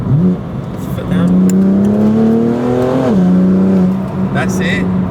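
A BMW M4 fitted with a loud aftermarket exhaust accelerates hard in second gear, its engine note rising steadily before easing off into popping burbles, heard from inside the car with people talking over it.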